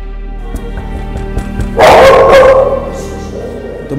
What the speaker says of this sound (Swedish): De har hund.